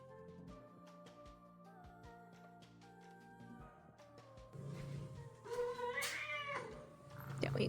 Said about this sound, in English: He's meowing like all the time.